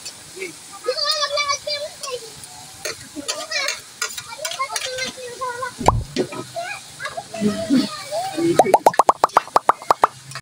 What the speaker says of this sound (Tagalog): Ito, lagyan na natin yung talong.